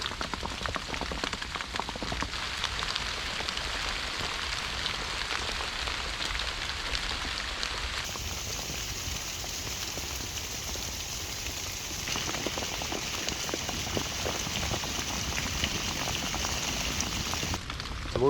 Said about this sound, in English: So while we wait for the rain to stop